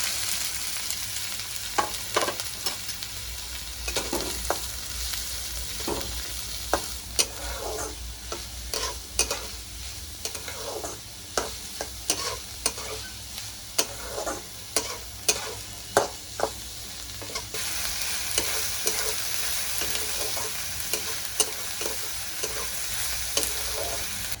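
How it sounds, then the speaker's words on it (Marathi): Finely chopped onions, three of them, frying in hot oil, a continuous hiss punctuated by frequent sharp spatula knocks on the pan, close and steady for the whole stretch without speech. "तेल आपलं तापले, आता मी 3 कांदे बारीक चिरून घेतलेले टाकते"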